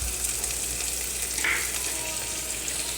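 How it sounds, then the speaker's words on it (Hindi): Green chillies and onions frying in a pan for chicken soup, giving a steady, close sizzle with a faint stir midway. "हरी मिर्च को भी हम थोड़ा पका लेंगे।"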